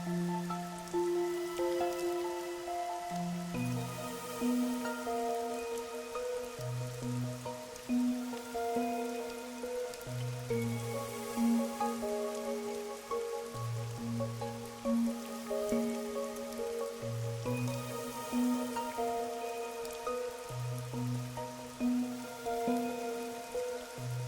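Steady rain patters in Master Detective Archive: Raincode, a soft continuous hiss beneath a looping melodic game score that sits prominently over it.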